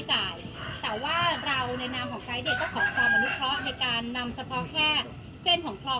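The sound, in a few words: rooster crowing in canal-side community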